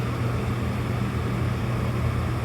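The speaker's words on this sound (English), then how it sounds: "air conditioner's been on for a minute" An air conditioner runs inside a 7x16 ft Cargo Craft off-road cargo trailer, giving a steady, even hum and airy hiss that neither rises nor falls, with nothing else over it.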